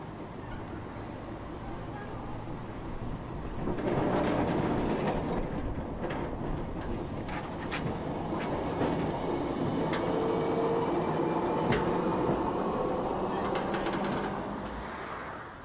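A historic tram in Dresden rolls along rails with a steady low rumble, occasional clicks and squeals as wheels pass joints, fairly close, with faint voices in the background.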